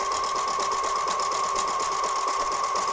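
Sewing machine with a regular presser foot stitching a reusable fabric bag, a steady close mechanical hum with fast even needle rhythm throughout.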